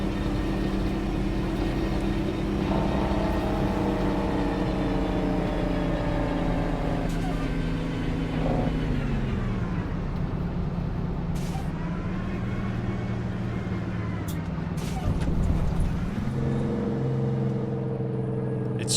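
A heavy truck engine rumbles loudly in a trucking video game, its deep drone rising and falling as gears shift, with a brief air-brake hiss near the end.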